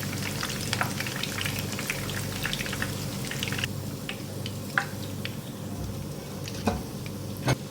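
Masala fish pieces fry in hot oil with a steady close crackling sizzle, broken by a few sharp pops and utensil taps.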